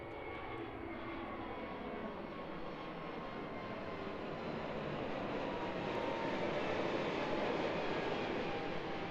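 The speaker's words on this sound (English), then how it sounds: "Beautiful departure there from the A320 Neo off to Melbourne this afternoon." Airbus A320neo jet departing Christchurch Airport, its engine roar steady and loud throughout, broadband and rising slightly as the aircraft climbs away, with no talk.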